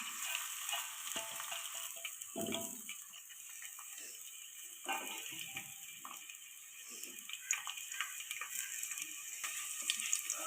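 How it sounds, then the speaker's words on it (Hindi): Finely chopped onions fry in heated oil, a close, uneven sizzle with soft crackles and occasional stirring knocks, rising and falling without speech. "ऑयल गर्म हो जाए थोड़ा सा, हम इसमें डालते हैं ये प्याज जो बारीक कटी हुई है।"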